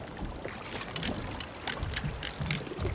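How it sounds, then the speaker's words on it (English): A wrench works on a boat engine in the Hitman stealth game on Ambrose Island: a steady mechanical clatter of ratcheting clicks and metallic knocks over a watery wash, close and fairly loud, with no talking. "Using the wrench, we repair the engine."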